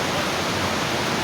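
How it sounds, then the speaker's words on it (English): Njupeskär, Sweden's highest waterfall, roars as a steady, dense broadband rush of falling water close by, loud and unbroken for the whole stretch with no voices over it. "we are almost in the front of the waterfall"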